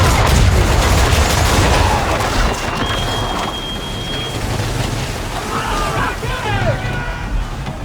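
Ship cannons firing during a naval battle in the video game Assassin's Creed III, heard as dense crackling, splintering blasts over a loud, noisy battle din, with shouted voices mixed in.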